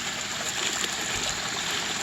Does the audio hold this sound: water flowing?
yes